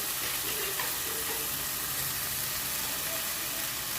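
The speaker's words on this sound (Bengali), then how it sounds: "দিয়েছি পরিমাণ মতো নুন মশলাটা একটু নেড়ে নিচ্ছি" Dried red chili paste and turmeric masala with salt frying and being stirred in a pan for a Bengali prawn malaikari, a steady dense sizzle with soft scraping stirs, close and continuous with no talk.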